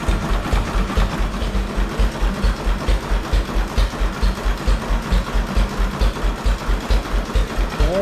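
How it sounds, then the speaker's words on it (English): A 1931 McCormick Deering Model M 3hp single-cylinder engine runs steadily at close range, with a fast, even chugging pulse that repeats throughout. "It'll start up and sit there and run all day long if you keep fuel in it."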